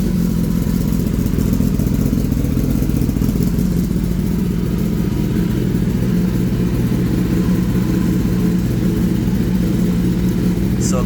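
A 2023 Kawasaki ZX-10R sport motorcycle engine cold-starts and idles loud and close, a dense steady rumble holding for about eleven seconds with little change.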